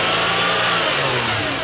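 A 1996 Toyota Avalon engine being tested for an EGR fault revs up and holds at high RPM, a loud, steady, close engine roar with no speech.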